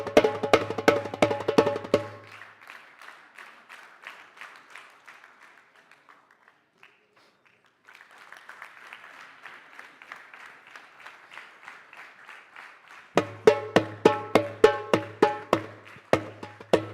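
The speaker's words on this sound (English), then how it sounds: "Give yourselves a round of applause" Audience claps in a steady rhythmic beat at the start, fades into a softer scattered crowd noise and near silence, then returns as loud, fast rhythmic clapping, close and energetic.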